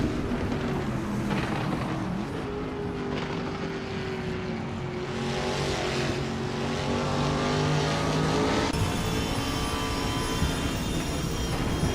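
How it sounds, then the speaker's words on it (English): A 2021 Ford Mustang race car in Trans Am racing, its engine roaring with rising and falling pitch as it accelerates and shifts, loud and continuous, with other cars audible alongside. "Ingo McCringleberry is running a 2021 Ford Mustang in the Trans Am class."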